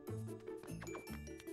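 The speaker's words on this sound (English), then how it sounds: "Ding dong." A bright musical ding-dong chime from the Miitopia video game on Switch, played as a quick run of tonal notes that repeat in a bouncy pattern, clear and alone.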